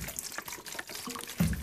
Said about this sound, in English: So I'm pouring water all over.